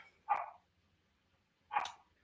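A dog barks twice, two short sharp bursts spaced about a second and a half apart, fairly close and standing alone against a quiet background.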